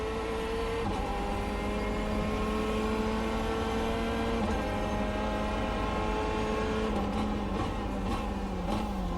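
Corvette C8.R GTE race car engine in iRacing, a steady loud drone with rising and falling rev tones as it accelerates and shifts, running continuously with no talking.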